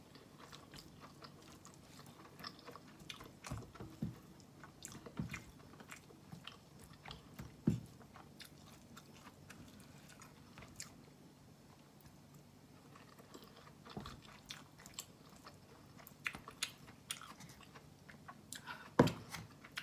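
Quiet, close chewing and crunching while eating stir-fried luffa with egg, rice and chili dip, soft irregular bites and clicks repeating over a low background with no talk.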